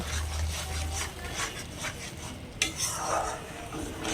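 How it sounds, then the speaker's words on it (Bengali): Fish curry (doi rui) is stirred and sautéed in a pan with repeated scraping and rubbing of a utensil, plus a sharp clink midway, close and moderately loud. "আমি এটাকে আরেকটু ভালো করে কষিয়ে নেব"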